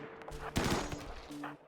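Quick bursts of rapid gunfire from characters shooting in a video game, a brief flurry of shots at moderate volume over a faint steady electronic hum.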